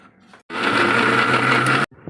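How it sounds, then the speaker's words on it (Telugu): An electric mixer grinder blending tomatoes and green chillies runs in one steady loud whirring burst of a little over a second, starting and stopping abruptly with quiet pauses on either side. "ఇవి ఇప్పుడు మనం మిక్సీ వేసుకుందాం."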